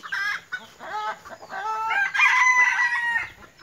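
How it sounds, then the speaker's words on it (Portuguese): Turkeys on a farm give a run of loud, close calls that rise and fall in quick succession, with no talk over them. "Olha os perus."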